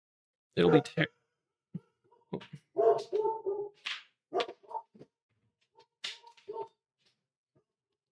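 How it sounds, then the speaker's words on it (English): A dog barks several times in a room where a live card-game cube draft is under way. The short, sharp barks come in uneven bursts, and a person talks between them. "Sorry about the dog."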